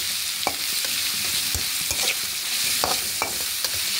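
Chicken onion rolls fry in hot oil with a steady, close sizzle, broken by a few sharp clinks and stirring scrapes, and no voices.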